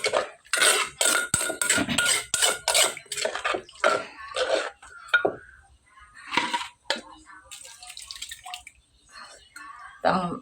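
A pestle pounds chilies and other ingredients in a mortar for Thai papaya salad, giving a fast run of sharp, close knocks and clatter early on, then sparser taps mixed with a nearby voice.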